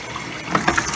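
A Maytag washer in diagnostic mode fills with water and bleach, a close steady rush of running liquid with a few splashy gurgles near the end and no voices.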